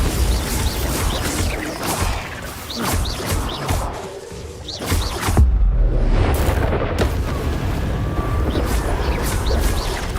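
Bombarda explosion spell cast in Hogwarts Legacy, a string of loud booming blasts and crashes with whooshes and cries of battle, and a heavy impact near the middle.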